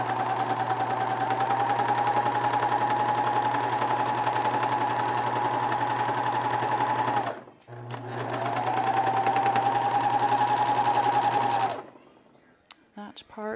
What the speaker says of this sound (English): we're gonna serge.